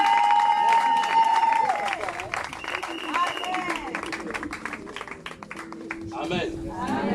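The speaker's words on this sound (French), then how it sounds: "sous nos acclamations, nous recevons l'apôtre John Akwete" A church congregation at a wedding claps and cheers to welcome an apostle. Dense clapping runs through the whole stretch over sustained keyboard or music tones, with voices mixed in and the crowd sound slightly easing toward the end.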